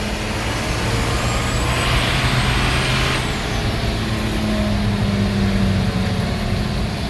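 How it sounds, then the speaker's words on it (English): A 1949 Cummins diesel truck engine runs with a homemade exhaust brake engaged, producing a loud, continuous low rumble with a hissing air-like layer and a rising tone that fades partway through. "the brake is working now, but it's not working as good as I expected."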